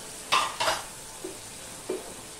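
Ground cumin, coriander and chilli powder sizzle in a pan for a vegetarian snake gourd curry, with two loud stirring scrapes followed by two fainter ones over a low, steady frying hiss.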